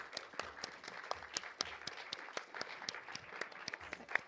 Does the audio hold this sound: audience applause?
yes